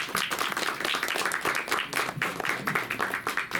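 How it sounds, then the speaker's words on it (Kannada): Loud applause from an audience at a movie trailer launch event, dense continuous clapping sustained throughout, close and full. "ಜೋರಾಗಿ ಚಪ್ಪಾಳೆ."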